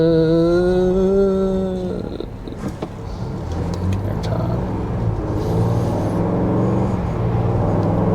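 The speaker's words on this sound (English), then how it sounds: "Engine sounds really good" A Ford Bronco Badlands engine rumbles and purrs steadily while driving, close and fairly loud, after a brief tonal hum at the start.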